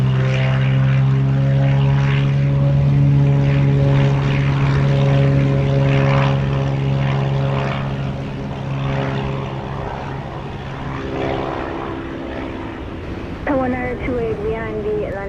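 A Bahamasair propeller airliner at Montego Bay gives a loud, steady drone with strong engine tones that slowly fade as it rolls away, while radio voices talk over it.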